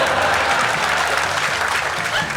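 Loud, continuous applause from a live audience at the Amazing Johnathan comedy magic show, steady clapping and crowd noise filling the whole stretch without any break.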